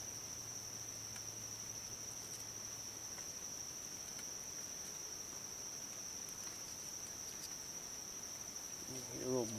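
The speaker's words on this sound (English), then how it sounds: "You hear a little bee buzzing around here" A small bee buzzes around outdoors, a faint, steady insect drone that runs the whole time beneath a continuous high, thin insect whine, with a brief rustle at the end.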